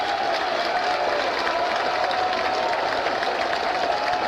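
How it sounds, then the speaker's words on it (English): Record crowd at a college baseball super regional game in Corvallis, Oregon State against Florida State, rising to its feet to cheer a batter; steady, dense roar of cheering and applause throughout, loud and continuous with no break. "The crowd, a record crowd, rising to their feet to cheer Leif Palmer on."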